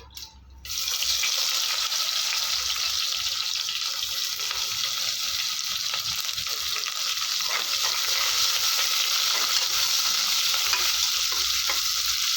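Steady, close sizzling of sliced onion frying in a pan, with faint stirring and scraping underneath, continuing without pause.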